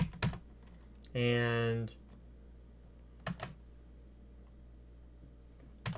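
Sparse computer keyboard typing while entering router commands, a few quick clusters of key clicks close by in a quiet room, with a short spoken word in between.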